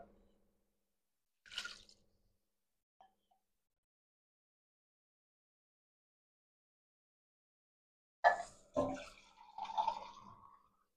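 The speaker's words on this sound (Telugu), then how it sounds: "దీంట్లోకి వాటర్ వేసుకుందామండి" Water is poured into a pan of boiling sago for tapioca coconut-milk kheer, in a few short splashing bursts separated by long stretches of near silence.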